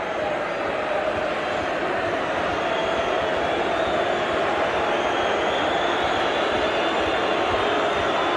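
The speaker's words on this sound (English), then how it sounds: "Crowd really giving the old Lang Park roar" A packed Lang Park crowd at a 1986 State of Origin rugby league match between Queensland and New South Wales roars loud and unbroken, a dense, sustained wall of noise.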